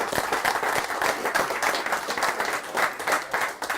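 Steady round of clapping from a crowd at a black ball pool league gathering, thanking the league sponsor; a few seconds of dense, even applause heard close with no talk over it.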